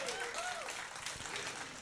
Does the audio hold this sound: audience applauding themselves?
yes